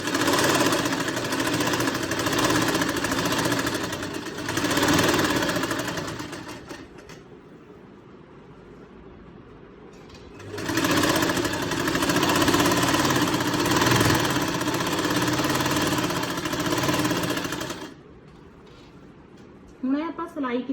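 A sewing machine runs in two long bursts of fast, steady stitching as it sews back over the pleats of a salwar, with a quiet pause between the bursts and a short voice at the end.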